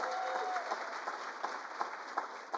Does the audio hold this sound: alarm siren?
no